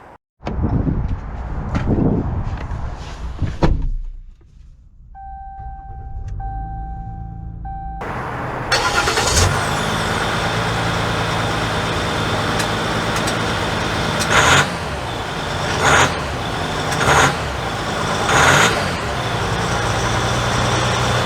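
A 2022 Ram 1500 Limited Night Edition pickup starts up and drives off, its engine turning over after a short quiet spell and then settling into a steady, fairly loud interior drone and road noise with passing swells.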